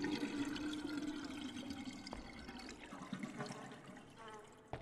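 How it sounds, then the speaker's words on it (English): A toilet flushes in the video game Mundaun, a steady rushing gush of water that gradually tapers off, heard alone and fairly close. "And flush."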